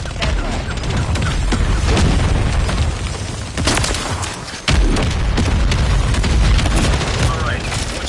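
Friendly mortar strike in Call of Duty MW3, with loud, heavy booming explosions and rumbling blasts packed close together, a brief lull, then another strong impact, while voices speak over the din.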